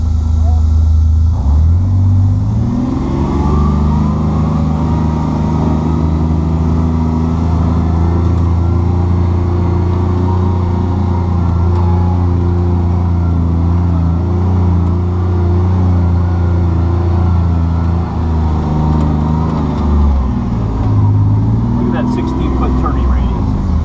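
A Kawasaki Mule Pro-FXT UTV drives in low four-wheel drive with the differential locked, its engine droning steadily and loudly up close with a rise and fall at the start and end, while people talk over it.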